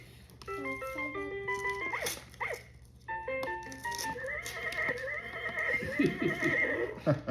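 An electronic toy plays a tinny melody, then a synthetic horse whinny and clip-clop hooves, followed by another jingle and repeated neighing.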